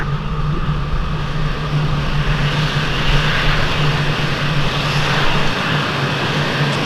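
An F-16 jet in the Falcon 4.0 game powering up for takeoff on runway 23 right at Palermo, a steady loud engine roar with a low hum running underneath throughout, no voices.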